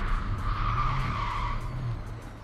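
A Ford Mustang Mach-E GT electric SUV cornering hard on a race track, its tires squealing in a loud, sustained skid that lasts a couple of seconds.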